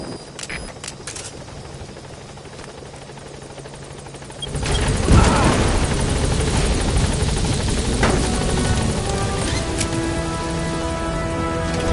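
A helicopter in the game Metal Gear Solid V comes in to a landing zone. After about four seconds of quieter background, its rotor roar swells suddenly and stays loud and close until the end.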